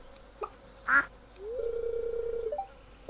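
A farm duck in the video game Stardew Valley gives one short, clear quack, followed by a steady synthetic game tone over a quiet background.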